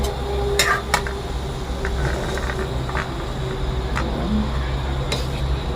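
Snails stir-fried with pickled bamboo shoots in a pan give scattered metallic clinks and scrapes of a utensil against the pan over a steady low sizzle and hum.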